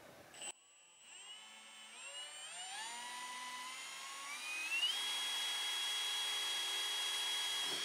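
A small power drill whirs up from a faint start to a steady high whine as it bores a pilot hole into a vehicle canopy for camping lights, sustained and close.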